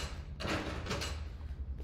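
A door sliding open in the puzzle game Slides & Doors Escape 2: a short whooshing slide in two quick surges near the middle, set against a steady low background hum, with no voices.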